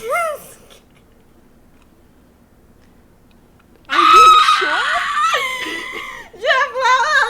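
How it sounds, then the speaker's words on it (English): A man catching on fire lets out a terrible, loud screech, sounding like harsh honking squawks in repeated bursts after a few seconds of near silence. "Jeff let out a terrible screech as he caught on fire."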